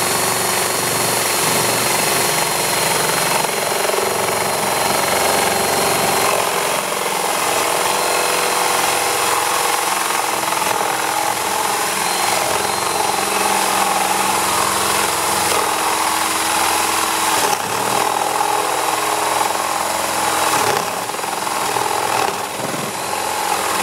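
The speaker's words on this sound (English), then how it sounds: "This is a 25mm drill, which is exactly right for booters." Continuous loud whine of a power drill with a 25mm bit boring through wood for a nest box, steady throughout with brief dips in pitch as the bit bites.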